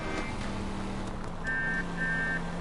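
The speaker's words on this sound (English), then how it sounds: "Oh man, that horn though." Two short, thin, high-pitched car horn honks in the video game L.A. Noire sound over a steady low engine hum.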